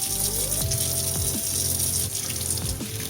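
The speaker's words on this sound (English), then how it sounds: "Rinse it off." A running kitchen tap rinses a soapy butter knife at a sink, the water flowing steadily and close throughout with brief clinks and shifts as the knife moves under the stream.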